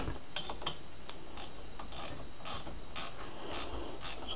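Ratchet wrench snugging the rear brake caliper bolts on a 2002-2004 Honda: about a dozen crisp metallic clicks at a fairly regular rhythm, close up, with no talk.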